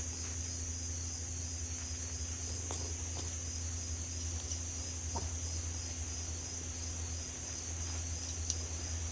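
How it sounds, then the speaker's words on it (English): Crickets chirp non-stop in the mountains after two days of rain, a continuous high steady trill with faint insect and bird sounds underneath, quiet and distant, with no talking. "the crickets and stuff have been going non-stop where we've had all this rain the past 2 days"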